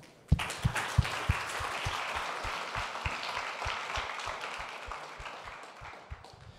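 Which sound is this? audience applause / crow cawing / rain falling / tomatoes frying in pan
audience applause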